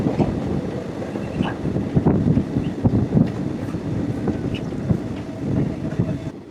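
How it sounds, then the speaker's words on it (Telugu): A short local train of three coaches rolls through green farm fields near the Pakistan border, with a continuous low rumble and clatter of wheels on rails and wind buffeting the microphone. No one speaks. "ఇది లోకల్ ట్రైన్."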